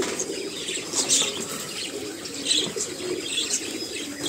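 Caged pigeons give soft cooing calls and brief wing flaps over a steady rustling background, with bursts of flapping around the second and a half second marks, close by and moderately loud.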